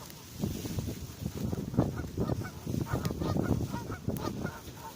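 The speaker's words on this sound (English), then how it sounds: "I don't know why we're naming the seagulls." Gulls call repeatedly beside a lake, a busy overlapping chorus of honking, squawking cries close by, with a wind rumble underneath throughout.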